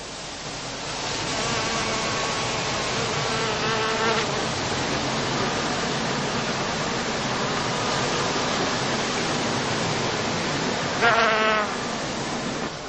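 Bees foraging among blooming heather, Calluna vulgaris, on a heathland with skep hives: a dense, continuous buzzing drone of many insects, fairly loud and steady throughout.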